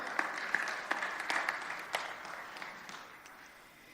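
Church congregation clapping, a scattered burst of applause from a crowd that thins and fades over a few seconds, moderately distant and without talk.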